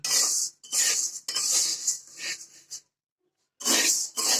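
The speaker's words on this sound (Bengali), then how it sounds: "তারপর ডাউলটা অনবরত নাড়তে হবে।" Dry lentils being stirred while frying in a pan, several bursts of close, gritty scraping and rattling from a spoon against the pan, broken by a short silence.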